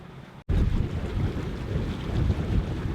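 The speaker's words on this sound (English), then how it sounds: "We have about 10-12 knots of wind at the moment. All the sails are up" Wind roars over the microphone aboard a sailboat under full sail in 10-12 knots of breeze, with water rushing past the hull; a steady loud gusting rush after a brief dropout.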